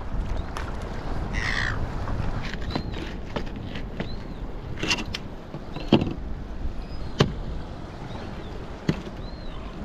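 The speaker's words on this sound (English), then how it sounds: "Seagulls are getting one hell of a feed right now." Seagulls squawk again and again, short repeated calls a little way off, as they feed on fish skin and fat beside water, over steady outdoor background noise with a few sharp knocks.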